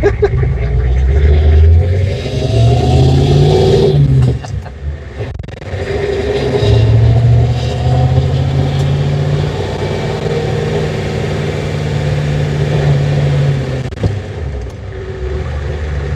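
A 1986 Ford F350 Megacab truck engine accelerates through short gears with a deep, loud rumble, climbing in pitch, easing off, then pulling again in a steady, lumbering drone.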